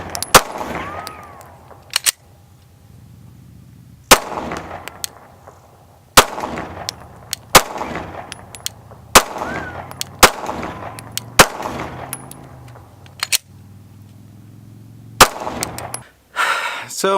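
Gen 5 Glock pistol fired outdoors, about a dozen sharp, loud single shots spaced a second or two apart with short echoing decays, plus faint handling sounds between them.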